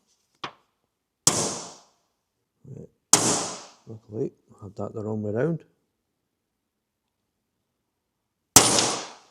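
Sharp metallic hammer strikes ring out as a metal data plate is stamped, several spaced blows with brief pauses, and someone speaks briefly between them.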